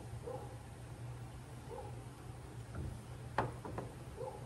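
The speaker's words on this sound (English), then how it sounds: "I hear my granddog out there barking" Outdoors in the country, a dog barks a few times in the distance, sharp faint yelps breaking a low steady background hum.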